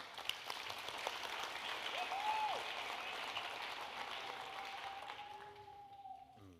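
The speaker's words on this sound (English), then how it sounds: "Would you give them a round of applause?" Audience applause fills a school district's State of the District 2023 event, honouring the director of safety and security and his team: a steady wash of clapping across the hall, moderately loud, tapering off at the end with no talk over it.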